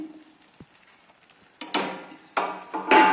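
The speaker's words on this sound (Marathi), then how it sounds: "हे दोन्ही मिश्रण यामध्ये आपण मिक्स करून घेणार आहोत आणि पूर्ण मिक्स होईपर्यंत हे सतत हलवत राहायचं" Ground sesame and peanut mix is stirred into melted jaggery in a pan on low gas for tilachi vadi, with faint quiet scraping first, then three loud bursts of sizzling, scraping texture close by and no talk.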